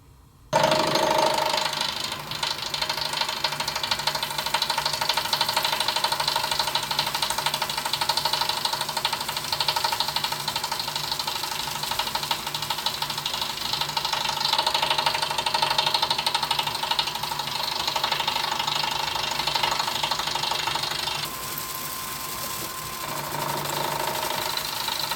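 Lathe turning an ABS plastic fishing lure into a tapered torpedo shape, producing a loud, continuous whirring hum with a dense rasping cut that holds steady throughout, then shifts slightly quieter near the end, with no talking.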